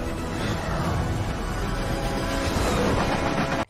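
A train in the film Morbius rushes past with a dense, loud rumbling roar and rattling, cutting off abruptly at the end.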